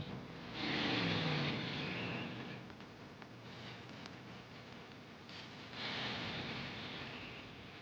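Drag racing cars, 1964-65 Ford Thunderbolt Fairlanes, lining up in the staging lanes at a drag strip: a broad engine roar that swells, dips through the middle, then rises again, with no voices.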